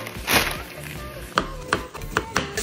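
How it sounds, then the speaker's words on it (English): Knife chopping through broccoli on a cutting board: several sharp, distinct chops spaced irregularly, close and fairly loud, with a faint background hum. "I have this broccoli. I'm just gonna cut it up into tiny little chunks."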